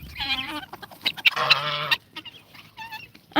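Farm birds crowd in at feeding time, giving several loud, nasal honks and calls in quick, uneven bursts close by.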